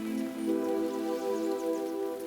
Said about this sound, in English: So I think we should get out the rain.